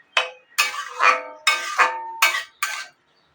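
A spatula stirs fried potatoes and shankar fish (stingray) in a pot for a Bengali fish curry, giving six distinct scraping, clanking bursts in an uneven rhythm, close and fairly loud, with no talking.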